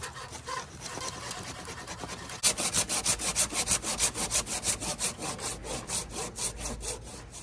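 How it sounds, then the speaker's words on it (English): A handsaw cuts through a mesquite tree branch in quick, even back-and-forth strokes. The cut starts soft and then turns louder and more rhythmic, with close, rasping pulses and no talk. "I'm gonna get the orchard ladder so I can get my handsaw and get some detail up there"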